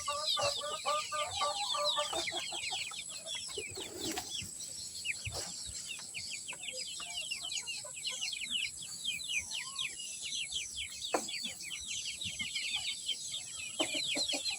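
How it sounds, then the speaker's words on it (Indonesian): A flock of AKY-breed kampung chickens at a poultry farm: continuous overlapping clucks and chirpy calls at moderate distance over a steady background hum, with occasional louder squawks and no talking. "Ini ayam-ayam AKY ini."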